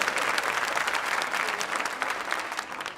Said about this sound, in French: Applaudissez pour eux.